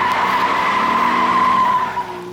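Tires of a 2023 Ford Bronco Wildtrak Sasquatch squeal loudly and steadily in a sustained burnout, the screech holding close and continuous with the engine droning underneath.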